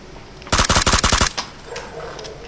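Gunfire in the PUBG video game: a single sharp rapid burst of about eight loud shots close by, followed by a fading echo and quiet background.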